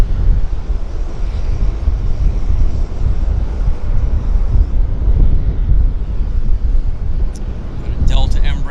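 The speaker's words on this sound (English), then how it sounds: "Got a Delta Embraer taxiing out right now." A Delta Embraer jet taxiing at Vancouver airport, a steady low engine rumble heard outdoors with wind buffeting the microphone, continuous and fairly loud throughout.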